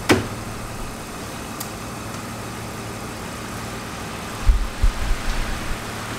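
A car engine fitted with a Tartarini EVO 08 LPG system idles on gas with no load and accessories switched off, giving a steady, even hum with a few soft knocks near the end.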